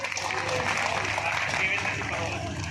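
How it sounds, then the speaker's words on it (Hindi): Applause from an audience for children at an award ceremony in Dausa, a dense steady patter of clapping with speech babble mixed through it. "तालियां जोरदार नहीं है, एक बार और जोर से बजाएं बच्चों के लिए।"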